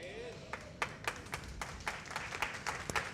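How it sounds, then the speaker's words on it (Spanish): A church congregation claps during a sermon, a run of sharp, fairly evenly spaced hand claps at moderate distance, quiet overall, with a voice speaking over the start. "Si lo va a aplaudir, apláudalo de verdad,"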